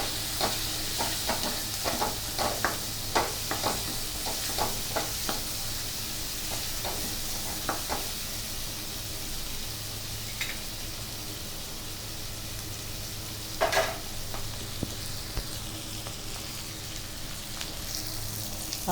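Boiled potato pieces are stirred into a frying pan, with a continuous sizzle under repeated scraping and tapping of a spoon against the pan, busiest early on, and no talking.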